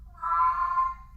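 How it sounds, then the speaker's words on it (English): A red cat gives a single drawn-out, clear meow in the background of a quiet indoor room, at moderate volume with nothing else heard. "You can probably hear that very red cat in the background here meowing at"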